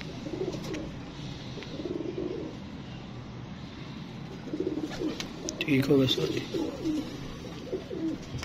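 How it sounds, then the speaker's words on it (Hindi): Pigeons coo in repeated low throaty bursts close by, while someone speaks briefly near the end. "ये हैं जी कबूतर माशाल्लाह"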